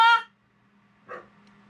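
A dog barks once, loud and close, with a faint second yelp or whine about a second later over a quiet indoor background.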